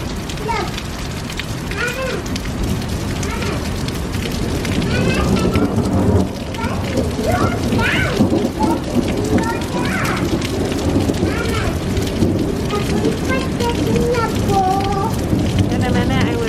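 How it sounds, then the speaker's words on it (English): Heavy rain with thunder during a storm, a steady, dense roar of downpour throughout, with low rumbles and people talking over it. "And it's lightning and thundering like crazy."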